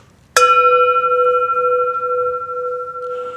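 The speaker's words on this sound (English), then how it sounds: "we sound the bell 3 times" A church bell is struck once, close and loud, its clear metallic tone ringing on in a long, slowly wavering decay with no voices.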